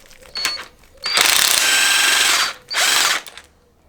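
A power tool spins nuts loose on the engine plate of a 1975 Triumph Bonneville T140. It makes a brief rattle first, then a long loud whirring burst, a short pause and a second burst.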